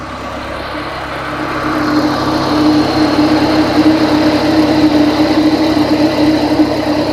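A Mazda Miata's A/C compressor clutch spins with the engine running, a steady close engine drone carrying a faint whirring hum that swells slightly after the first couple of seconds and holds.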